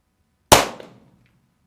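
Single sharp crack of a Remington 550-1 rifle firing a .22 Short round, loud and close, with a brief decaying tail after near silence.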